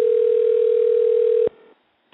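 A telephone ringback tone on an outgoing call: one long steady tone plays loud and alone, then cuts off abruptly, leaving quiet line hiss and a brief click.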